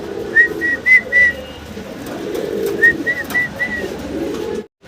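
A pair of Stencil Lowry pigeons coo nearby in two short bursts of repeated soft, rolling calls over a quiet room murmur.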